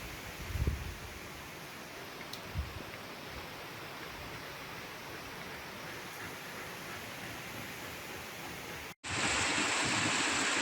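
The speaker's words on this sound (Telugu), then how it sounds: "పాలకుర్తిలో భారీ వర్షం." Heavy rain in Palakurthi pours as a steady, dense hiss, with a couple of soft thuds early on and an abrupt cut near the end into a brighter, louder rush.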